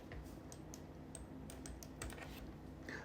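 Keys on a computer keyboard tapped in a quick, uneven run of soft close clicks during 3D modelling work, with no voices.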